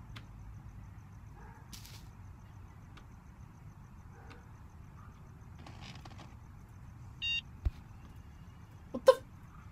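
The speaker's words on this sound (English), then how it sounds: "Beep? Why the beep?" A short electronic beep in the Hello Neighbor video game sounds once near the end, brief and fairly clear above a low, steady background hum, with a few faint clicks scattered before it.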